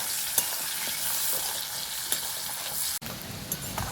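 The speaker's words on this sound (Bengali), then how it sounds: "দিয়ে দেবো কেটে রাখা পেঁয়াজ, পেঁয়াজটাকে একটু আমি লাল করে ভেজে নেব।" Chopped onions frying in hot oil left from cooking katla fish in a pan, a steady close sizzle with faint crackles and occasional stirring clicks, with no voices.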